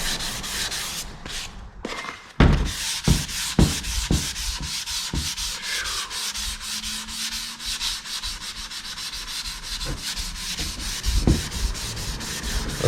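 Steady sanding of Chevrolet Camaro Z28 body parts coated with spot putty, a continuous abrasive rasp broken by sharp repeated strokes and brief knocks, close and loud throughout with no talking.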